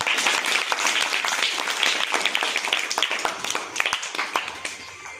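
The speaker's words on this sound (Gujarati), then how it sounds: "તાળી પાડો બધા." A group of students claps at a school quiz competition on a Bagless Day, with dense, steady applause that thins and becomes patchier toward the end.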